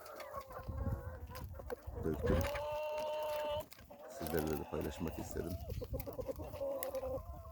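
Several chickens cluck and squawk close by while eating feed and someone talks over them, with a long crowing call in the middle.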